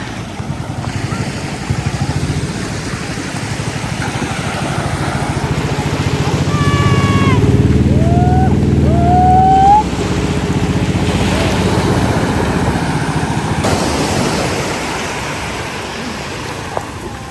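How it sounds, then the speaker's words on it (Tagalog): A motorboat engine drones steadily by the seashore, growing louder as it nears, with water splashing and some whistling or squealing tones in the middle. "May padating pong bangka."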